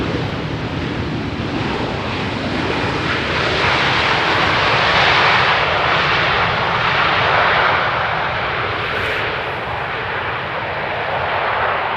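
An airliner roars in to land on runway 18R at Amsterdam Schiphol, its engine noise loud and steady for the whole stretch, with wind rumbling against the microphone and no voices.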